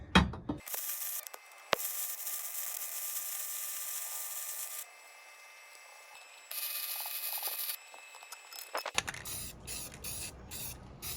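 A metal frame from a vintage Bigfoot B19 fiberglass camper trailer is scrubbed with a Scotch-Brite pad and acid, giving a close, steady, hissing rasp in long strokes that briefly pause and resume, with no talking.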